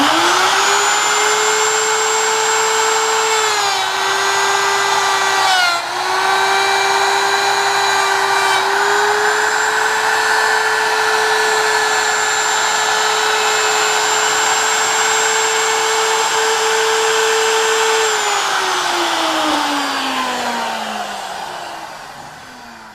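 A router cuts wood for a computer hutch, a loud high-pitched motor whine holding steady with slight dips under load before spinning down at the end.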